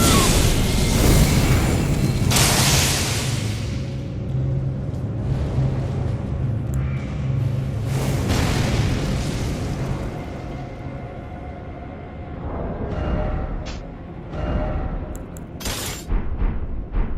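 Heavy booming blasts from a cannon-wielding enemy in Elden Ring's Scorpion River Catacombs, loud and repeated across a dense, reverberant battle din, with several sharp bursts toward the end.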